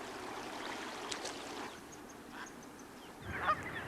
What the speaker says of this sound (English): Mother goose and father goose and all the other neighborhood moms and dads often bring their youngsters together